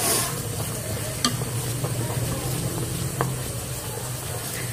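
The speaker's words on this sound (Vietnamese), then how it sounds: "giờ các bạn hãy chịu khó đảo lên cho mình nhé, quấy đều nó lên nhé" Grated coconut is stirred and sizzles as it cooks down into coconut oil in an electric rice cooker: a continuous frying crackle with occasional scraping clicks of the stirring utensil, close and steady, with no voices.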